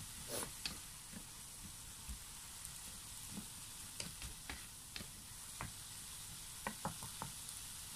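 Chicken gizzards and hearts sizzling in a pan, a steady soft frying hiss broken by scattered pops and scraping clicks as the meat is stirred, quiet and close.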